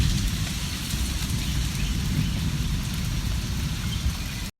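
Steady, dense rain falls on bare, deforested hillsides, a loud and unbroken wash of drops with a low rumble beneath and no voices.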